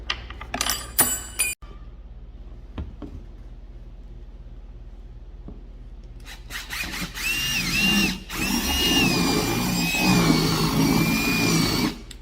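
A power drill whirs in short bursts, then a long sustained high-pitched drilling run grinds steadily through a top box for a KLR 650 motorcycle, using the wrong size bit, fairly loud and close.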